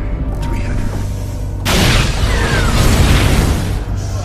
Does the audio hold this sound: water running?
no